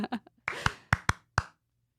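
Sharp, close hand claps mark an edit point, several crisp snaps in quick succession, preceded by a few short vocal sounds.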